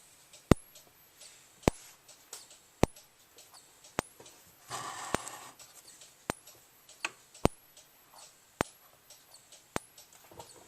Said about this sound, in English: It's making this capacitor noise.